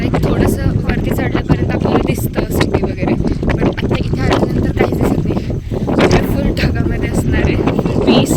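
Strong wind buffets a microphone outdoors at Anjaneri fort, producing loud, continuous rumbling gusts that mask someone talking throughout.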